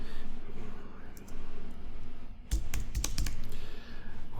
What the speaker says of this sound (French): Si je tape du texte ici.